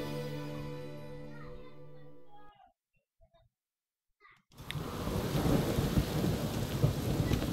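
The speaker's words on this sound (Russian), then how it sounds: "постоянно дожди идут, а? Отвратительная погода." Rain and thunder in the video game The Witcher 3: after music cuts out and a near-silent gap, steady dense rainfall with rumbling thunder comes in loud and keeps going to the end.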